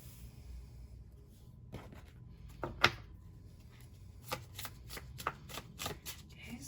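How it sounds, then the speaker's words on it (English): A tarot card deck being shuffled by hand, with repeated crisp riffling bursts and soft card slaps at an irregular pace, close and fairly quiet, no talking. "just going to shuffle up the deck really quick"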